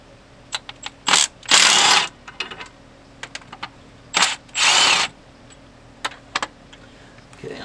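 Intake manifold bolts being worked loose on a Buick 350 engine, short bursts of ratchet clicking alternating with longer whirring runs of a power tool, close and loud with no talk.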